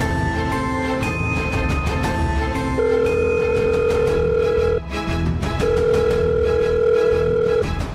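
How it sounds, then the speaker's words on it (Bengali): A phone call's ringing tone sounds as two long, steady tone pulses with a short gap between them, layered over a busy tonal background. "রানীকে একবার ফোন করে দেখবো।"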